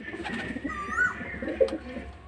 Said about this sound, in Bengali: চলুন আর একটা পায়রা দেখাই।